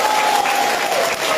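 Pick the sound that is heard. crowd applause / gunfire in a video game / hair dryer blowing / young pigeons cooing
crowd applause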